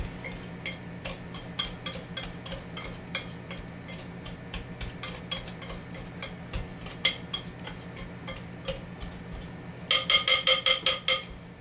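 A pastry blender works through a flour mixture in a bowl for an apple dumpling pudding, making a steady run of metallic clicks and scrapes that ends in a quick burst of louder clatter. No one speaks.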